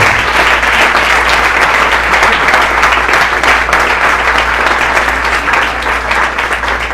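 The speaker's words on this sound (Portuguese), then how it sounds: "Vamos aplaudir o Senhor." Loud, sustained applause from a church congregation during a worship service, dense clapping filling the space without a break.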